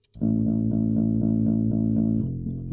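A buzzy synthesized bass line pulsing in an even repeating rhythm of sustained low notes, with a final note shift near the end.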